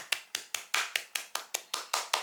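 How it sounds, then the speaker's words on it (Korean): Eleven crisp, evenly spaced hand claps, close and fairly quiet, each one sharp and then fading quickly, as a single person applauds in congratulation with no voices over them. "축하합니다. 박수."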